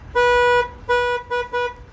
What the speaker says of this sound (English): Okay, that sets off the alarm in case you park somewhere with the truck